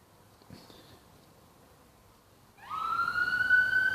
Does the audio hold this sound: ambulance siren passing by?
yes